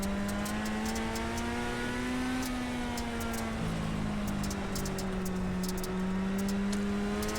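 A race car laps Huset's Speedway in iRacing, its engine droning loudly and continuously with smooth rising and falling pitch as it accelerates and eases off, dominating the sound throughout with no talk over it.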